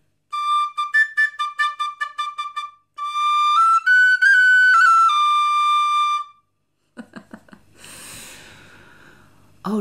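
An Irish whistle plays a bright melody, first in short detached notes and then in sustained held tones, loud and close, followed by breathy sounds and a sharp intake of breath.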